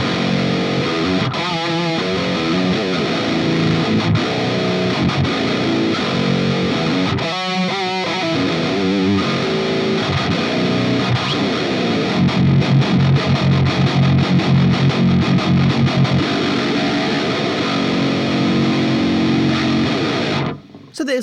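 Electric guitar played through the ML Amped BurgerClip double Burger Twin Jet amp plugin, a heavily distorted, sludgy doom-style tone with chugging riffs and sustained chords, loud and continuous before cutting off at the end.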